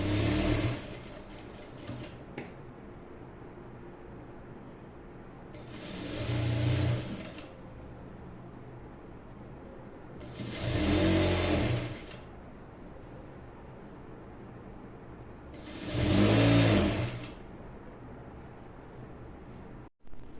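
Sewing machine stitching round the folded half-inch hem of a nightie, four separate bursts of fast whirring stitching spaced a few seconds apart, with quiet handling between runs and no talking.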